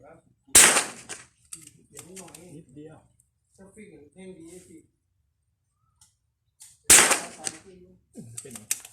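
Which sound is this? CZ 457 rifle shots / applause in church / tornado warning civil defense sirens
CZ 457 rifle shots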